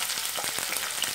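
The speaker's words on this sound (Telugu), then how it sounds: "ఇప్పుడు ఒక ప్యాన్లో కొద్దిగా నూనె వేసుకొని ఈ ఉల్లిపాయలు వేద్దామండి." Sliced onions frying in a little oil in a pan for a okra chutney, a steady soft crackling sizzle throughout with no talk.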